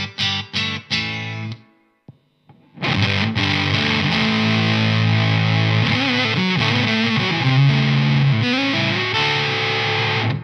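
Electric guitar through a Dunlop Jimi Hendrix '68 Shrine silicon fuzz pedal: a few stabbed chords, a brief gap, then a long, loud, sustained and aggressive fuzzed passage with heavy low end, with no voices.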